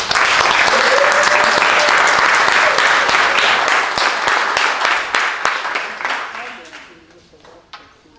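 Loud, sustained applause from an audience at a Juneteenth celebration in Rocky Hill, welcoming a speaker to the stage, steady for several seconds before tapering off into scattered claps.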